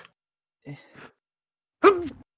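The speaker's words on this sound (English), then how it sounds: "Sorry, I had to sneeze." A single sneeze from a person during a podcast, a short preceding intake and breathy sound then one sharp, close burst near the end.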